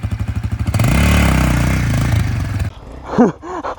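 An enduro motorcycle engine revs loudly and roars while descending a steep hill, then cuts off abruptly, leaving quieter sounds and brief bird-like chirps.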